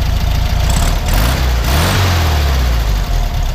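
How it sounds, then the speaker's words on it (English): A 1966 Volkswagen Beetle engine revs up loud and close, rising from a steady idle into a climbing rev and back, with no talk over it. "Go ahead and rev it up a little bit."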